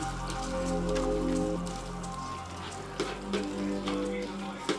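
Ground masala for mushroom biryani cooks in hot oil, giving a steady, close crackling sizzle like light rain, with occasional soft clinks over a low hum.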